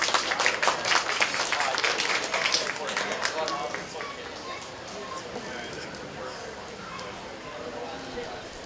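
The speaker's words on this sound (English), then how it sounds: "If we get a round of applause for these final exhibitors as they come out to exhibit" A county fair audience claps for the final junior showmanship exhibitors, a moderate ripple of applause that fades into steady crowd noise and arena ambience.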